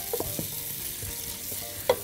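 Onions frying in a pot, a steady close hiss of sizzling oil with a few soft stirring scrapes and a brief clink near the end, no voices.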